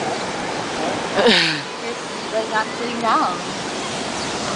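Steady broadband wash of ocean waves at a beach, filling the whole clip at moderate level while people talk close by over it.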